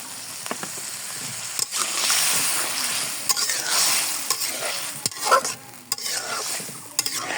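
Water poured into a simmering okra and prawn curry, with a loud rushing sizzle and bubbling that comes in bursts, mixed with scraping and clinking of a stirring spoon, close by and with no talk.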